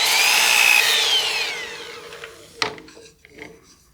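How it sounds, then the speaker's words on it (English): Sandpaper rubs against the spinning interior of a wooden turned bowl on a lathe, a steady close abrasive hiss with motor whine that fades out, followed by a sharp knock and lighter handling noises. "I want to try and sand across that and smooth it out"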